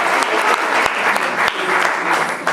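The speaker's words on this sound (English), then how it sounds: "Can we give him a good round of applause?" A crowd at a spelling bee gives speller Brandon a round of applause, a brief burst of dense, lively clapping with a few sharp individual claps on top.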